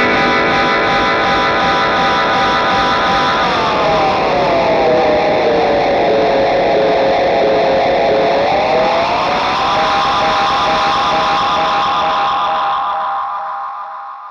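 An Anasounds Utopia delay pedal with its repeats turned all the way up, building into a dense, loud, self-oscillating wash of distorted echoes whose pitch dips and rises before slowly fading out at the end.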